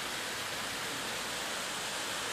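A clean river flowing over stones, a steady broadband rushing wash with no breaks, continuous and fairly close, heard alone without talking.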